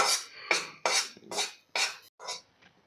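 Semolina and grated coconut dry-roasting in a pan for modak filling, a series of about six short scraping and rasping strokes of a spoon against the pan, close and fairly quiet, with brief pauses between.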